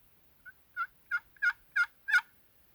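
A 501 scratch box turkey call gives six short, raspy yelps in an evenly spaced rhythm, each a little louder than the last. The call is soft and subtle, with quiet gaps between the notes.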